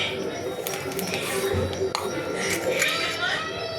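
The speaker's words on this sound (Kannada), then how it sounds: "ನಾನಿಲ್ಲಿ 1 ಬೌಲಲ್ಲಿ ಕಲಿಸ್ಕೊತಾ ಇದ್ದೀನಿ ನೋಡಿ" A spoon stirs custard powder in a bowl with a little water or cold milk, giving quick light clinks and scrapes against the bowl under steady background noise.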